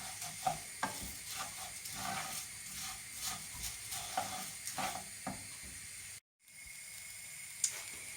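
Mushroom risotto being stirred in a pan as stock is added, giving a soft, steady scraping and bubbling texture with occasional louder clinks, close up, with a brief drop to silence near the end.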